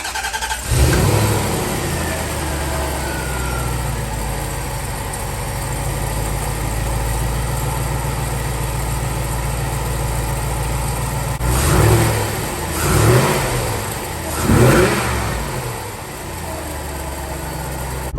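A C4 Corvette ZR-1 V8 engine runs steadily at a smooth, even idle after a spark plug repair, then near the end it is blipped with three short revs that rise and fall.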